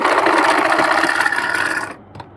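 A sewing machine runs in a fast, steady whir while stitching along a garment neckline, close and loud, then stops abruptly near the end, leaving a brief quiet tail.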